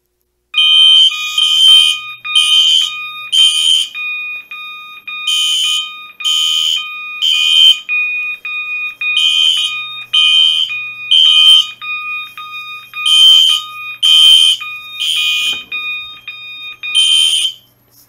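Notifier AFP-200 fire alarm system sounding during a detector test, a loud, close electronic tone pulsing in steady repeated bursts with brief gaps, continuing alone throughout.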